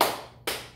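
A single sharp hand clap, given as a cue in a seniors' recreation word game, lands midway through the clip after a softer start, close and fairly quiet with no talk over it.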